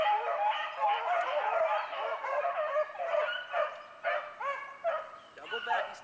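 A dog barks and yips in rapid, repeated bursts outdoors in Louisiana, fairly close and loud, with people talking nearby.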